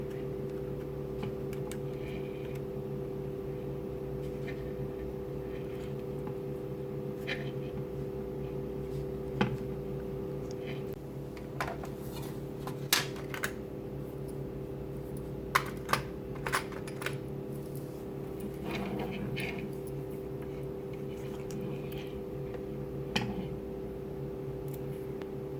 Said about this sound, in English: I'm gonna try to pick it apart with a screwdriver and some picks